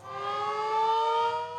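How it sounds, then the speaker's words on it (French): A civil defense siren sounds at precisely 7 pm across a village in India, a steady tonal wail holding level and heard alone, without voices. "à 19h précise, une sirène retentit."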